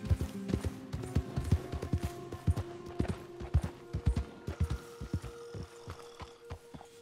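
Horse hooves galloping in Red Dead Redemption 2, a quick rhythmic run of dull thuds repeating steadily and close under a low hum, easing slightly toward the end.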